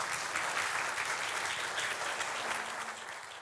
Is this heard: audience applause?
yes